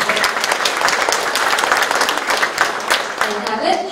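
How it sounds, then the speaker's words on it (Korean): At a city talk concert marking a mayor's 100 days in office, the audience claps loudly for an arriving councillor, a dense, close burst of applause lasting a few seconds. "박수 부탁드립니다"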